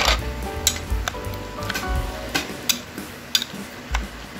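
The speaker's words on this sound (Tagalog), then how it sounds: "Haluin lang natin mabuti." Eggplant salad being mixed with fish sauce, a spoon tapping and scraping against a bowl in irregular clinks over a soft wet stirring, close and moderately quiet.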